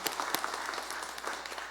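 A church congregation applauds in a steady wash of many hands clapping, with a few sharper individual claps standing out near the start.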